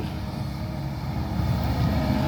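A Kobelco SK200-10 excavator with a turbo engine, loading sand at a work site, revs near full throttle in a steady, loud, low droning roar that rises slightly toward the end.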